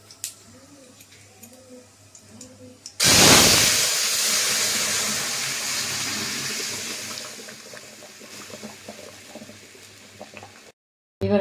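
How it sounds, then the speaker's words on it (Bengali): Urad lentils tipped into hot oil spiced with dried red chillies, bay leaves and fennel seeds in a pan burst into a loud sudden sizzle that slowly fades to a softer, steady crackle. "এবার আমি ডালটা এর মধ্যে দিয়ে দেব।"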